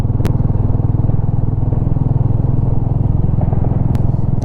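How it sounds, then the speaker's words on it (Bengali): Motorcycle ridden uphill on a steep, winding mountain road in the Darjeeling hills, its engine a steady, close, continuous rumble with a faint rattle throughout, no talking. "আজকেই প্রথম আমি পাহাড়ে বাইক চালাবো"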